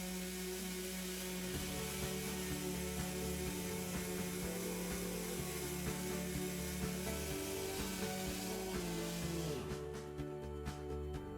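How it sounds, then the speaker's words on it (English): A 2-speed sander grinds down cooled excess weld material on a plastic bulge repair, giving a steady, continuous whir with rasping friction that runs close and even throughout, with no talking. "The final sanding starts with the 2-speed sander, removing the cooled excess welding material that's too high."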